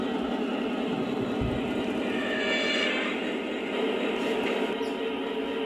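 A Lionel Amtrak Amfleet model train cab car runs along track with a steady close whirring motor hum and continuous rail rumble.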